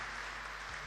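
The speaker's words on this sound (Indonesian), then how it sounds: "tepuk tangan dulu untuk mereka berdua" Applause for two guests, a pastor and a woman, at a psalm-chanting contest in a Javanese church hall, a brief steady wash of clapping from the congregation.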